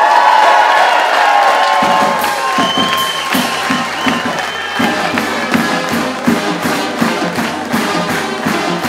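A large Oregon State crowd cheers and whoops to welcome new head football coach Gary Andersen, loud and continuous, with rhythmic claps and stomps building through the cheering.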